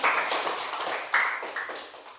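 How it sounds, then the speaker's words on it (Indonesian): Pupils applauding in a primary school classroom, a short, lively burst of close clapping that tapers off toward the end. "Tepuk tangan ya Bapak Ibu ya."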